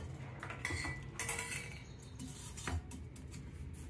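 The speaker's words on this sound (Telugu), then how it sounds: "ఇప్పుడు పాలల్లో పౌడర్ యాడ్ చేసుకొని ఇందులో కలుపుకోవాలండి." Spoon stirring custard powder into milk in a metal pot, light scraping and a few sharp clinks against the sides, quiet and close with no talk.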